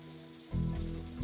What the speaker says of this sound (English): It's just raining today.